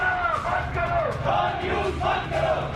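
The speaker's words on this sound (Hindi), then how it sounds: "इसी मेन गेट के बाहर भीड़ जमा है और ये भीड़ डॉन न्यूज के खिलाफ नारेबाजी कर रही है" A mob gathered outside the main gate of the Dawn News office in Islamabad chants slogans in loud, rhythmic collective shouts, a dense crowd roar rising and falling without pause.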